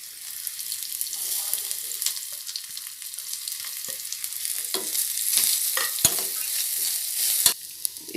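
Onions sautéing lightly in oil for a tempering meant for black kavuni rice kanji, a bright hiss of frying broken by a few sharp clacks of a spoon against the pan. The sizzle swells toward the end.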